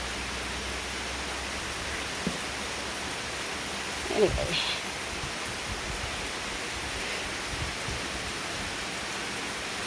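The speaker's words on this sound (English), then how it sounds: "Since it's raining, he's just on the porch." Summer rain falling near a porch in the evening, a soft even hiss throughout with a brief thump partway, while a voice speaks briefly.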